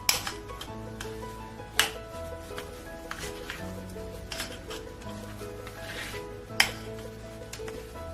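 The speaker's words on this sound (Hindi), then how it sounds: "इसको अच्छी तरह से मिक्स कर लेंगे।" Boiled egg filling with dill being mixed in a bowl, light intermittent scraping and a few sharp clinks of a utensil against the dish, quiet and close.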